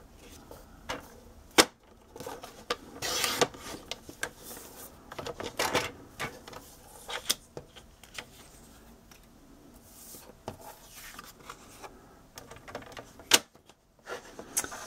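Pattern paper being cut for a folded card, a series of sharp clicking and slicing strokes from a paper trimmer, irregular and close, with quiet handling rustles between cuts and no talking.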